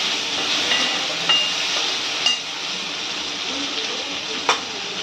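Onion and tomato roasting in a pan for a festive veg thali, a steady close sizzle with a few faint stirring clinks and scrapes.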